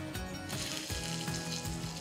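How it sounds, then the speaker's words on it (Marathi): Hot tempering of asafoetida, dried red chillies and curry leaves hits chutney with a loud, continuous sizzle and crackle, close by and alone, with no talking. "आता ही फोडणी घालूयात चटणीवर"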